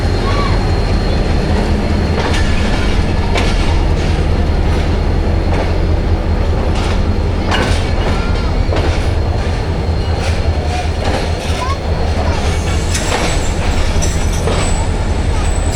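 The Rehman Baba Express (47 UP) runs on rails between Karachi and Rohri, with a loud, continuous rumble, wheel clatter and brief squeals, heard close from inside the train throughout.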